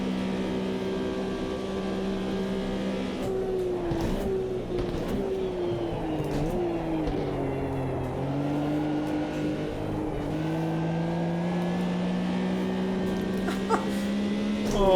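A '74 Porsche 911 race car engine in the Automobilista 2 racing game at Kyalami, droning steadily and loud throughout, with pitch swooping down and back up through gear changes and corners, no talk over it.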